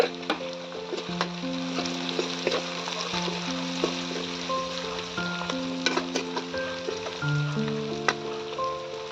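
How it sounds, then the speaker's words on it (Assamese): Onions sizzle steadily in hot oil in a pan, stirred now and then while cooking for a duck meat curry, with a continuous close frying hiss and no talk. "ভালকৈ পিঁয়াজখিনি সিজালকৈ লৰাই দিলোঁ"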